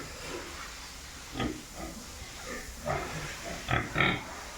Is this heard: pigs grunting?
yes